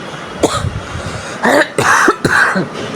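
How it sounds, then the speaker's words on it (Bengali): A person coughs several times in harsh, close bursts, a couple of short coughs followed by a heavier cluster of throat-clearing hacks, with no talk in between. "অনেক কাশি কথা বলতেই পারছি না"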